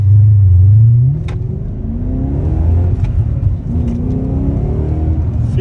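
A newly bought car accelerates on the road, the engine note rising through the gears in several climbing sweeps, with a steady rumble and tire noise heard from inside.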